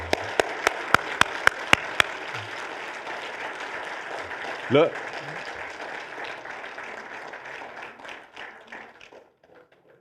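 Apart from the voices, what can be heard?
congregation applauding in church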